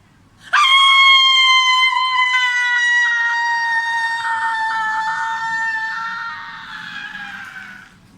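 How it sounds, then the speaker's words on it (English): A woman lets out a single long, high-pitched delighted scream. It starts abruptly, holds loud and sustained for several seconds, then fades slightly before cutting off. "as you can tell by that delighted scream"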